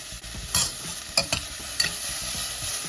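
Carrots and bell peppers sauté in a pan with a continuous soft sizzle, broken by a few sharp stirring scrapes and clatters of the utensil against the pan; no talking.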